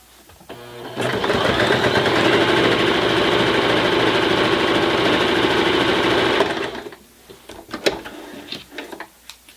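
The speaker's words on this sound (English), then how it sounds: "you can now see how nicely it's going to stitch through 4 layers of fabric and 2 layers of batting" A Janome 2212 sewing machine with its standard foot stitches steadily through four layers of fabric and two of batting, a loud, even mechanical whir lasting several seconds, then stopping and leaving a few light clicks and handling noises.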